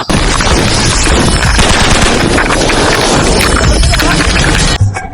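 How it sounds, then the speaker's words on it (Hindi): Intense machine-gun fire and explosions in an action film scene, a loud, dense, continuous barrage of rapid shots that cuts off abruptly near the end. "यहाँ बहुत फायरिंग हो रही है"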